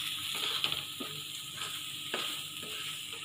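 Chole masala spices sizzle and fry in a pan, a soft, steady sizzle with light scraping stirs recurring every second or so.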